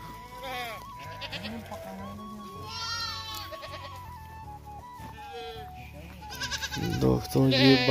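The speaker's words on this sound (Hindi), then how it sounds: "भेड़ बकरी के बच्चे" Lambs and kid goats bleating repeatedly, several wavering high cries near and far, mixed with people talking throughout and a louder burst of bleats at the end.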